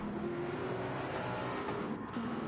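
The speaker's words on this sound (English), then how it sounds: "I hear that rotary blast by" A rotary-engine race car roars past at full throttle in a Le Mans racing video game, heading into the Ford chicanes; a loud, steady engine drone holds for the whole stretch with no talking.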